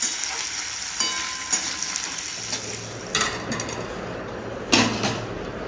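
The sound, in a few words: potatoes frying in hilsa fish oil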